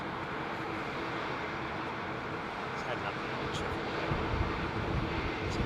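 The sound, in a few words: IAE-powered British Airways jet at Heathrow Airport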